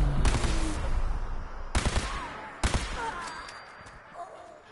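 Gunfire in the video game Fallout 4: three loud sharp shots at roughly one-second intervals, each with a short trailing echo, over a busy background of game noise and faint ambience.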